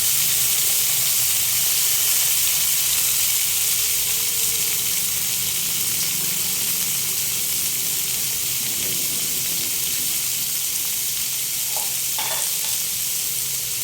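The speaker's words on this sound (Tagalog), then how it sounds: "gigisahin natin carrots" Sliced carrots sautéing in hot oil, a loud, steady close sizzle with a few light stirring clinks toward the end.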